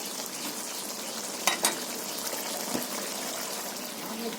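Prawns frying in a pan for a bottle gourd and prawn curry, a steady broadband sizzle running throughout with a couple of brief clatters near the middle, no voices.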